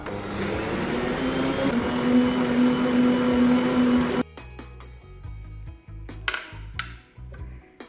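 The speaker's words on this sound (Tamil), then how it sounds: "இனி வந்து பட்டரையும் சேர்த்து கலந்து கொள்ளுவோம்" An electric mixer whirs loudly as butter is beaten into chocolate cake batter, running steadily for about four seconds before cutting off, followed by scattered clinks and scrapes of the bowl.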